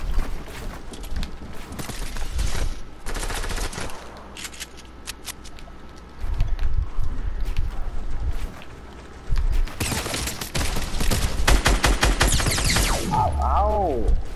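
Rapid bursts of automatic gunfire from a shooter video game, several clusters of sharp shots separated by quieter stretches with clicks and handling noises, fairly loud and close.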